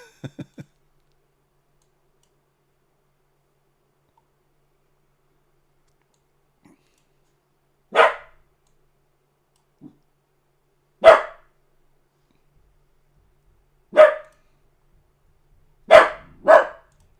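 A dog barks indoors in single sharp woofs spaced a few seconds apart, with a quick double bark near the end and a few faint clicks early on; no speech.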